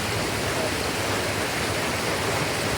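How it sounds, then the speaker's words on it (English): Hardraw Force, the tallest waterfall in the UK, produces a constant broadband roar of falling water, loud and unbroken throughout with no voices over it. "But you can hear the water already."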